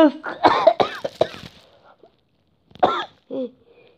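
Speech followed by a pause, then a couple of short, close coughs.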